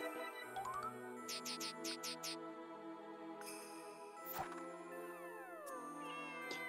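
A cat in the game Friends of Mineral Town gives a few short synthesized meows over looping game music and chimes, with other electronic effects later.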